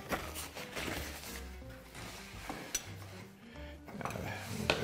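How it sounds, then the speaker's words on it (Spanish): Olives and pickles being stirred together for a Russian salad, with repeated clinks and scrapes of a utensil against a bowl at close range and no talking. "Vamos a mezclar un poquito las aceitunas con los pepinillos"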